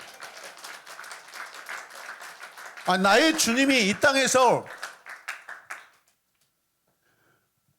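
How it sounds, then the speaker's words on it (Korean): A church congregation clapping together in steady, dense applause under a raised voice partway through, then fading out to silence after about six seconds. "이 말씀을 듣고 여러분 박수 한번 쳐주시길 바랍니다."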